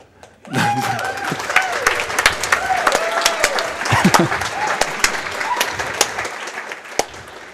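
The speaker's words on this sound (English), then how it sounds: "I get the preliminary clap out of the way." An audience at the SGDQ 2016 speedrunning event breaks into loud applause, many hands clapping steadily for several seconds, with a few voices and whoops mixed in.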